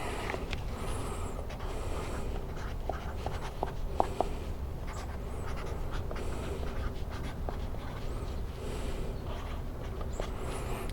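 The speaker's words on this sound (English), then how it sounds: "I'm gonna write two-stroke oil on it" A marker writes "two-stroke oil" on a plastic oil container: short scratchy strokes and small taps come in quick bursts close by, over a low, steady background hum.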